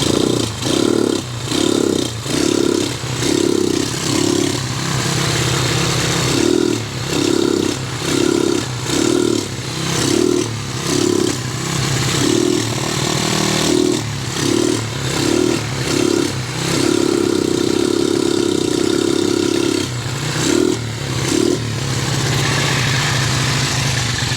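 A misfiring motorcycle engine revs repeatedly in uneven bursts, sputtering and stumbling between pulses, close by, with no talking.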